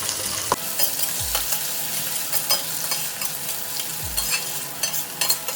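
Onions fry in hot oil in a kadai with mustard seeds, cumin, bay leaf and dried red chillies, giving a continuous close sizzle broken by several scraping stirs of a spoon, with no voices.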